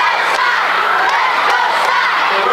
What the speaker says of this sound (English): The kids were cheering for their classmates